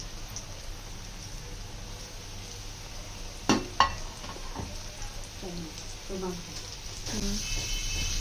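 Chicken wings sizzling in hot oil in a wok over a medium-low flame: a steady, soft frying hiss runs throughout, with a few clattering bumps of the wings going in and being moved near the middle.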